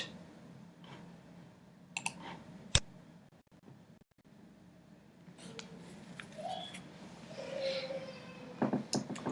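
A computer mouse clicks a create button while setting up an AWS CloudFormation stack: one crisp, close click stands out amid a few softer ticks over quiet room noise.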